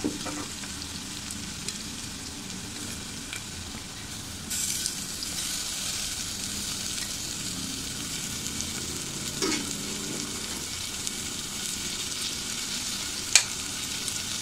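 Tomatoes dropped into onions frying over medium heat in a pan for a chickpea curry, a steady sizzle with a burst of louder hissing as they land and a sharp clink near the end.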